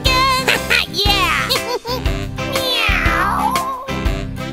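Repeated cat meows, rising and falling in pitch, sound over bouncy music in a children's counting song.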